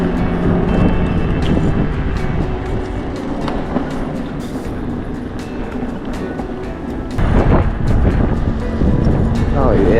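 Strong wind buffets the microphone while riding an ISINWHEEL GT2 electric scooter along a greenway, a loud, continuous rumbling roar that swells near the end.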